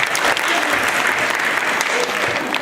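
An audience at a Hindi youth stage show claps loudly and continuously, a dense, close wash of applause with some voices mixed in.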